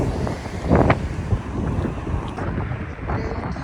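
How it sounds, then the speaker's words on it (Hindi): Strong, cold stormy wind buffets the microphone in a steady roaring rumble, with heavier gusts swelling now and then. "ये देखिए क्या हवाएं चल रही हैं"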